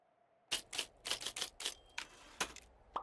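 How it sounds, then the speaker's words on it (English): Typewriter keys clack in the video game Firewatch, a quick irregular run of about a dozen crisp, close strikes after a brief quiet start, with a small bell-like ding at the end. "A typewriter."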